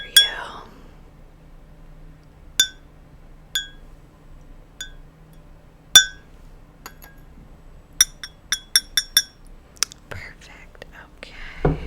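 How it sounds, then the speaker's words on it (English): A metal spoon clinks against a tea cup while stirring in sugar, with sparse single taps followed by a quick run of bright ringing clinks, close and crisp in a quiet room. "1 scoop of sugar, 2 scoops of sugar. There you go. Let's stir that up for you."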